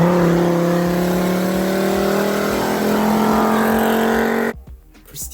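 A 1980s car drives past and revs, a loud close engine drone whose pitch climbs steadily before cutting off abruptly into near silence.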